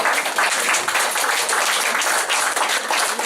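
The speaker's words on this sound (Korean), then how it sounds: "박수를 한번 쳐주셔야 되는 게 춘천시에서 오셨어요" An audience at a presentation event claps together for guests, a dense, even burst of many hands applauding close by without pause.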